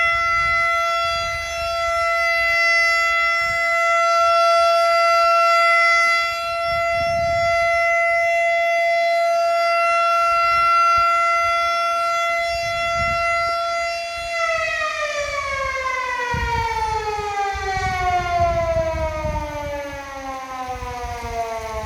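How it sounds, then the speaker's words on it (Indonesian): A warning siren at the Sigura-gura dam in Toba sounds loud and sustained, holding a steady wail before sliding downward in pitch, with faint outdoor rumble underneath. "Sirenenya lagi bunyi. Mungkin bendungannya akan dibuka."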